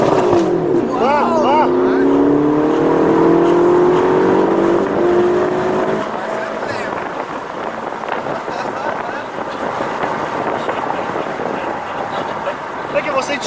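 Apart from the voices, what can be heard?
Ferrari California T 560 hp accelerating at full throttle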